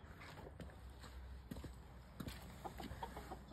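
Backyard chickens cluck softly in a small coop, with scattered short calls, light scratching and shuffling nearby at low volume.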